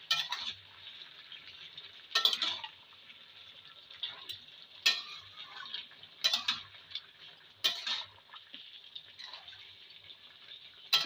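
Bottle gourd curry with a sour spice mix being stirred in a pan, several soft scraping sweeps at irregular intervals over a faint background, no voices.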